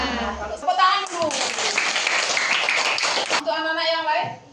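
Children in an elementary school classroom clap their hands together for about two seconds, a dense burst of claps set between teacher and pupil voices talking before and after.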